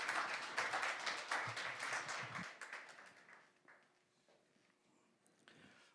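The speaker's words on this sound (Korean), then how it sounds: "우리 귀한 유동필 목사님 큰 박수로 맞이해 주시면 감사하겠습니다." An audience at a nationwide pastors' seminar applauds to welcome a pastor, a fairly faint burst of many hands clapping that tapers off into quiet room noise after a few seconds.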